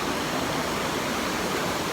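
Rushing waterfall in Karura Forest, Kenya, giving a steady, dense wash of broadband water noise that stays even and unbroken throughout, with no voices.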